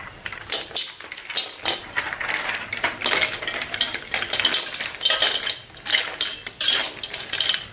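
Mussel shells clattering and clinking against each other and a metal pot as they are tipped into boiling herb broth, a busy run of sharp rattling hits, close and fairly loud, with no talking.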